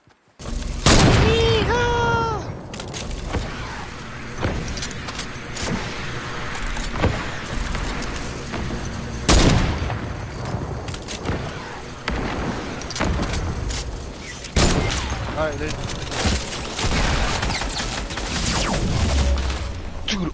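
Gunfire in a Fortnite-style battle royale game, with scattered sharp shots and bursts through a busy mix of game effects and engine-like noise, while players talk over it throughout.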